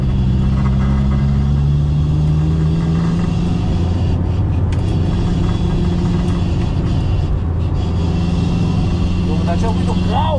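Inside a BMW 318ti turbo while driving, a loud, steady drivetrain drone with a humming differential whine fills the cabin throughout, with talk over it.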